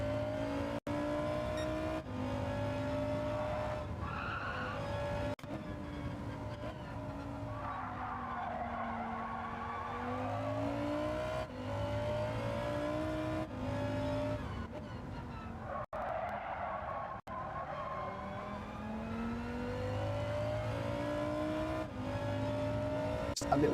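Race car engine roaring steadily with rising and falling revs, screeching tires sliding through corners in Gran Turismo 7 lobby racing, loud and continuous throughout, with a few sharp clicks.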